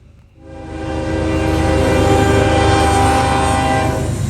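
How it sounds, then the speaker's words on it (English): Norfolk Southern freight train 116 charging west through London on the Dayton District at milepost 163, passing close and loud with a sustained horn blast that swells in after a brief quiet start and holds steady over rumbling wheels. "we find 116 charging his way west through London"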